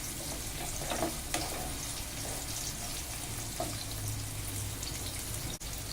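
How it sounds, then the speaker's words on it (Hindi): Two medium onions lightly fry in oil in a pan, a steady close sizzle with a few soft stirring knocks, continuous and unaccompanied by speech. "प्याज को लाइट फ्राई करेंगे।"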